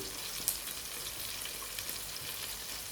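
Onion frying in a pan: a steady, quiet sizzle and crackle of hot oil, continuous and close, with a faint tap or two and no talking.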